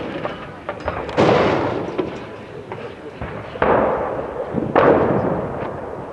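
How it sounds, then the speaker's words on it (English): Pakistan army 122mm D-30 howitzers fire during a drill, with several heavy booming blasts spaced a few seconds apart, each followed by a rolling rumble, under a continuous noisy background. "These guns can fire a variety of ammunition, achieving ranges up to 12 kilometers"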